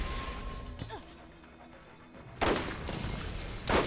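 Gunfire and grenade blasts from enemies in the Borderlands shooter game, a couple of sharp broadband bursts near the end after a quieter stretch with a faint tone, with no speech over them.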